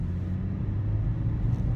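A 2017 VW Golf accelerating hard, heard from inside as a steady, low engine rumble under full throttle, fairly quiet and continuous with no talk.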